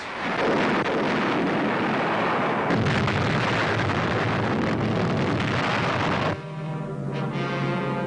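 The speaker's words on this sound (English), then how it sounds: "Massing mortars and tanks, the Americans hurl a concentrated and devastating fire upon this center of enemy" Massed American mortar and tank fire pounds San Pietro in a loud, sustained roar of blasts and rumbling explosions that stays dense and heavy throughout, then eases a little near the end, with no talk.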